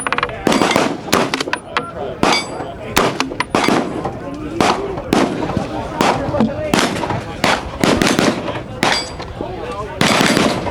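Gunfire from rifles at a busy range during the SHOT Show range day, with loud, rapid shots in bursts and overlapping cracks from several shooters nearby, with voices talking underneath.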